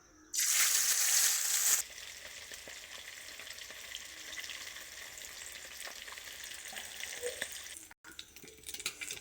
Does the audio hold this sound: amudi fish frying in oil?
yes